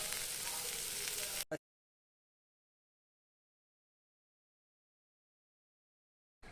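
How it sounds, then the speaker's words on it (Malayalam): Mackerel (ayala) frying in a pan gives a steady, fairly loud hiss of hot oil for about a second and a half, then cuts off abruptly into silence before a short burst of sizzle returns at the very end. "അയില വറുത്തതാണ് കുറച്ച് വറുത്ത് മാറ്റി വെച്ചു എടുത്തതും കൂടെ വറുത്തെടുക്കട്ടെ"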